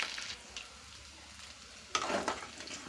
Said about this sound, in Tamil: கடுகு பொரியுது.